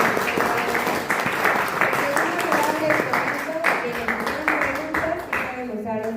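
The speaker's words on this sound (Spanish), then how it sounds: "Primero hay que darle un aplauso." Applause from an audience for an interviewee in a gathering, a continuous rattle of clapping with voices talking over it throughout.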